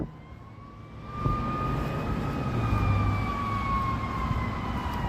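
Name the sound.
sirens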